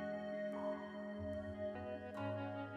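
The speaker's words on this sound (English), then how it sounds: "A smooth and transparent room reverb, in the smooth plate style." A synthesized instrumental phrase runs through the Smooth Room preset of the Valhalla Vintage Verb plugin, sustained notes and soft attacks trailing into a smooth, transparent room reverb tail, quiet and without speech.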